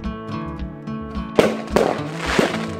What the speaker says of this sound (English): some truckers decided to fire fireworks exactly near us